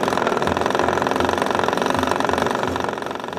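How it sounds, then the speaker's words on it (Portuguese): A hand-cranked cassava grinding machine in a rustic flour mill chugs with a rapid, steady mechanical rhythm, loud and near, easing slightly toward the end. "Enquanto uns cuidam do ralo, outros acionam a manivela, que gira o motor."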